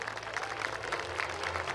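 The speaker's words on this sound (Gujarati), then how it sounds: "જોરદાર તાળીઓ" A burst of applause from an audience at a school cultural programme prize announcement, many hands clapping steadily and fairly faint, lasting under two seconds.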